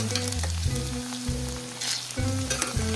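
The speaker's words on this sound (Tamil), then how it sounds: "ஆற வரைக்கும் நல்லா ஃப்ரை பண்ணிக்கலாம்" Cauliflower (gobi) roasting in a pan gives a steady, close sizzle and crackle with bright spitting bursts over a continuous low hum.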